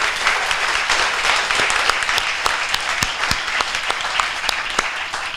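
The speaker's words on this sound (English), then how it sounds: "Can we please get another round of applause for Dane?" Audience applause for the musician Dane at an evening forum in Charlotte, a steady wash of many hands clapping close by, continuous and fairly loud for the whole stretch with a few sharper individual claps standing out.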